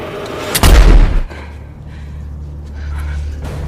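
A single loud gunshot in a horror film scene cracks sharply near the start, then decays into a low rumbling tail beneath faint background tone.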